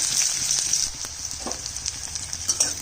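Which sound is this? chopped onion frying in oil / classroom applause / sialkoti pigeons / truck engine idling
chopped onion frying in oil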